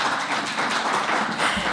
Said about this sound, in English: Please clap for my dad and mom again.